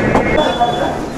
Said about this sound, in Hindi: देखो मेरे पीछे एक ट्रेन आ रही है।